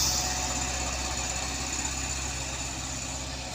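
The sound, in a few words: truck engine accelerating on a steep uphill road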